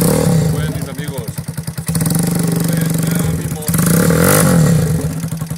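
A motorcycle engine revs loud and close in repeated pulsing bursts that rise and fall, with a rattling clatter, and someone talks over it.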